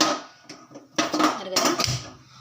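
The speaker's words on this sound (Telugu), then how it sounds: "ఇక్కడైతే ఒక గిన్నె అయితే తీసుకున్నాను నేను" A steel bowl is picked up and set down on a kitchen counter in a home kitchen before making jowar rotis, giving a few sharp metallic clanks with quiet pauses between, close and fairly loud.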